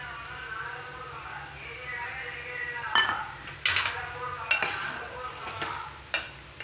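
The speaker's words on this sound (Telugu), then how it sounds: "ఇప్పుడు మనం శనగపిండిని ఇందులో వేసుకొని కలిపిస్తున్నానండి" A utensil scrapes and clinks against a pot while gram flour is stirred into a cooking mixture, with irregular knocks over a low simmering background as someone talks.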